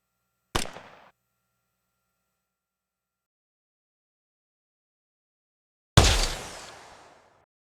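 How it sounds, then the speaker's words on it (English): Two separate sci-fi pistol shots for a video game, layered with mechanical and character elements: a short sharp crack, then after a long silence a louder, fuller blast with a noisy tail that fades over about a second. "The character layer adds to the sci-fi element of the pistol"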